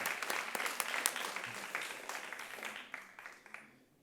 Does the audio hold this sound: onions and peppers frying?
no